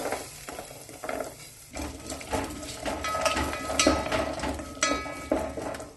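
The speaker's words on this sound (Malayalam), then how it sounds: "ഇഞ്ചിയും പച്ചമുളകും വാടി തുടങ്ങുമ്പം ഇതിലേക്ക് കുറച്ച് ക്യാരറ്റ് മുറിച്ചതും കുറച്ച് ബീൻസ് മുറിച്ചതും ചേർത്ത് വഴറ്റാം." Chopped carrots and beans are sautéed with ginger and green chili for a no-onion, no-garlic fasting thali. A soft sizzle runs under repeated clicking and scraping from a spoon on the pan, and the sound grows busier partway through.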